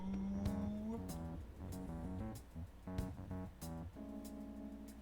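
The camper van in the video game Persona 5 Strikers is heard through a sustained engine tone that rises in pitch, joined by sharp transient hits and layered musical tones. The whole sound is fairly quiet.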